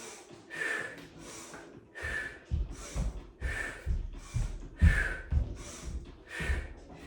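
Rhythmic, forceful exhales and breaths during a dumbbell swing workout with a slight knee bend, repeating about every second, close and clear with thumping movement underneath.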